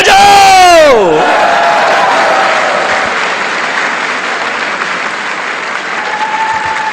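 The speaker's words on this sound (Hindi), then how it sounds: "ताली बजाओ" Audience applause and cheering at a Hindi-language event, loud and sustained, opening with a swooping vocal whoop or musical sweep before settling into steady crowd clapping with a faint tone near the end.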